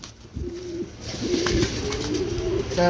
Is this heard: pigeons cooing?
yes